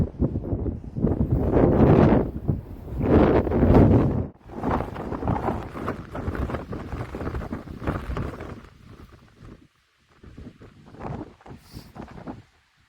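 Strong gusts of wind at a frosty sunrise buffet the microphone inside a dome tent in loud, surging waves, easing briefly before picking up again more softly.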